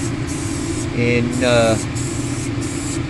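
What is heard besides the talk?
Krylon Fusion spray paint being sprayed from can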